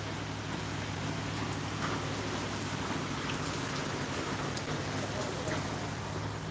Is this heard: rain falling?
yes